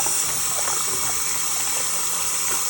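Water from a sink faucet runs steadily over a tankless water heater filter being rinsed, a continuous close splashing rush with no talk.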